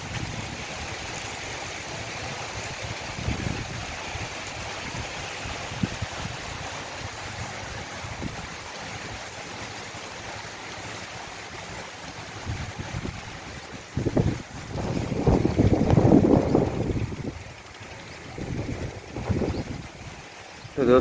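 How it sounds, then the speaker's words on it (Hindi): Steady hiss of heavy rain pouring down, swelling into louder rushing gusts toward the end, with no clear speech over it. "इस बार बहुत ही तेज़ी से बरस रही है। आप आवाज़ भी मुलाहिज़ा फरमाएं।"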